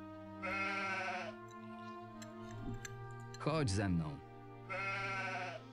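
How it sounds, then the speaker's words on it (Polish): A lamb in the video game Gothic II: Archolos bleats twice, loud and nearby, in long wavering cries at the start and end. Someone speaks briefly between them while a soft ticking runs underneath. "Ojej, jaki fajny baranek."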